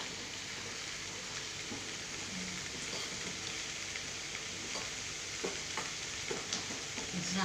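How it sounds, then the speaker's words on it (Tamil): A pot of sambar simmers and bubbles on a home stove, a soft, steady hiss of boiling with faint pops scattered through, quiet and close. "சாம்பார் நல்லா கொதிச்சுட்டு,"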